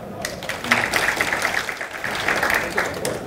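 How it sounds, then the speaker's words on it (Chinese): An audience at a live talk on OpenStreetMap in diplomatic work claps to welcome a speaker, a moderate burst of indoor applause lasting a few seconds with faint voices underneath. "那我们先掌声欢迎一下韦翔"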